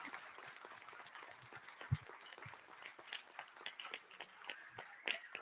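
Scattered applause from a modest audience at a school district board meeting, light and uneven with irregular claps and a few louder ones, fairly faint overall.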